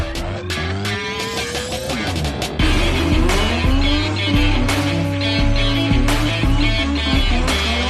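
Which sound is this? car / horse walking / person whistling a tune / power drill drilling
car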